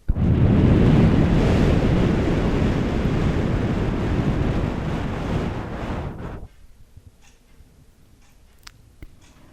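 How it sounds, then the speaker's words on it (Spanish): A strong, roaring wind gusts loud and close, steady for about six seconds before dropping off abruptly to near silence with a few faint ticks. "Era un viento tan fuerte como que si el viento me soplaba en mis oídos"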